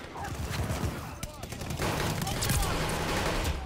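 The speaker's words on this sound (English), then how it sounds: "They're sending mortar shells." Mortar shells exploding in the Call of Duty Vanguard video game, a steady barrage of distant booms and crackling gunfire under continuous battle noise, with brief muffled voices mixed in.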